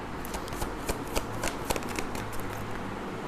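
Tarot cards are shuffled and drawn by hand close up, with a rapid run of riffling flicks and sharp snaps across the whole stretch and no talk over it.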